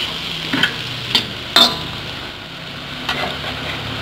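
A spatula stirs food in a frying pan over a low, steady sizzle, with a few distinct scraping knocks spaced about half a second to a second and a half apart.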